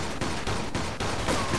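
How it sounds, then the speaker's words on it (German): Gunfire in the video game Mafia II crackles in a steady rapid volley, with several distinct bursts of shots coming in quick succession at moderate loudness. "Ich sehe nicht mal, von wo die schießen."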